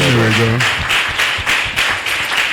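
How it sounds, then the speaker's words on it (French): Church congregation applauding at an Easter Sunday service closing a 21-day fast, loud rhythmic clapping in waves right after a short spoken phrase. "Applaudis pour le roi."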